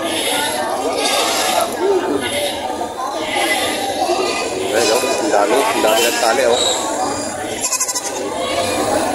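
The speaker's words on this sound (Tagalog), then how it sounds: "ang dami ho ngayon dumating na kambing" Goats bleat repeatedly amid a busy crowd at a livestock market in Padre Garcia, Batangas, their cries mixing with nearby people talking and general market chatter.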